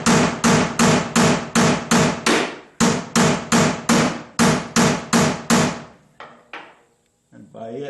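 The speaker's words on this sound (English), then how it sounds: "I've been beating on it with a chisel and a hammer" Fast, loud metallic hammer strikes on a chisel against a rocker panel retaining nut on a 1976 Corvette, a steady series of about fifteen ringing blows with a brief pause midway, then quieter clanks.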